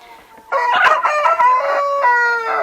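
A broody hen gives loud, drawn-out throaty clucks close by, a strained repeated call with no talking.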